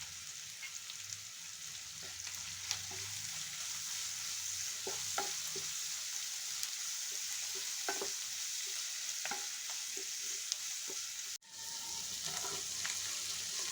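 Cluster beans fry with coriander and turmeric in a pan, giving a soft, continuous high sizzle with scattered light crackles and faint stirring taps, quiet and close, with a brief dropout near the end.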